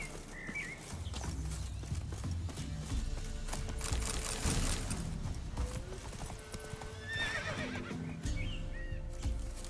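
A horse in the video game The Witcher 3 gives a quavering whinny near the end, over rhythmic clip-clopping hooves and soft ambient game sound.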